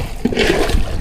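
A brief rush of water being bailed out of a fishing boat and poured out with a splash, close by and fairly loud.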